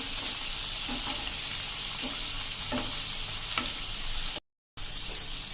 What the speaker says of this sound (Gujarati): આ રીતે આપણે એકદમ મીડિયમ ફ્લેમ ઉપર એને સરસ એવી ચિપ્સને ફ્રાય કરી લેવાની છે